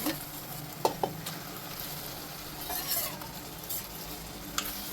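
Prawns dropped into a hot pan for a gongura prawn curry, a soft steady sizzle with a few sharp utensil clinks and stirring scrapes, close and moderately quiet.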